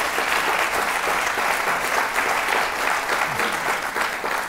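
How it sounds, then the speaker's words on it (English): An audience at an evening talk breaks into loud, sustained applause, a thick wash of clapping hands that stays constant and close, with no voices over it. "I will accept your applause before I make this next point"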